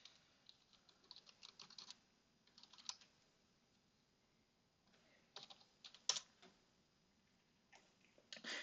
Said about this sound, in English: Once I'm done typing in the password, I will hit Enter